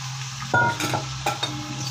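Onions hit hot oil in a pan for Hyderabadi chicken biryani, bursting into a sizzle, followed by a couple of scraping stirs under a low steady hum.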